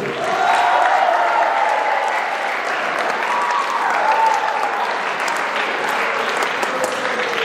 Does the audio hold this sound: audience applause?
yes